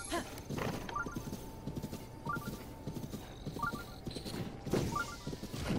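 Horse hooves clip-clop at a steady trot in the Zelda Breath of the Wild video game, a regular rhythm of light beats with soft game music chimes repeating over it.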